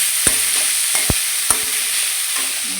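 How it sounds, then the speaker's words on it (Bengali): Drumstick flowers fry with onion in a pan in a home kitchen, giving a soft sizzle under a few sharp scrapes and taps as they are stirred. No one speaks. "সজনে ফুলটা দিয়ে পেঁয়াজ দিয়ে আর সজনে ফুলটা ভাজা হচ্ছে"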